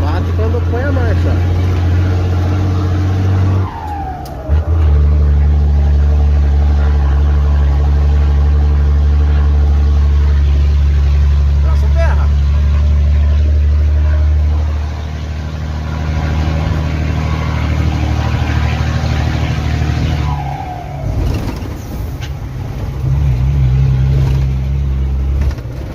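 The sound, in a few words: truck engine while shifting gears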